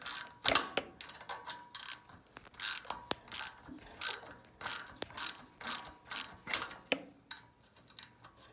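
Metal wrench ratcheting back and forth on a bolt while removing the coil from a Kohler KS540 5400 series engine, a series of close, sharp clicking bursts in an irregular rhythm with no talk.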